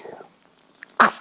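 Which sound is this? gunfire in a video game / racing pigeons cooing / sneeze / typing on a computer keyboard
sneeze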